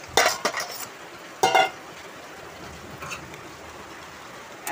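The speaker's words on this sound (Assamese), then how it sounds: "এতিয়া ধুনীয়াকৈ মই লাৰি দিম।" Fried taro being stirred in a cooking pot with sour ou tenga, a few sharp metallic scrapes and clinks of the spoon in short bursts, separated by quiet stretches of low background sizzle.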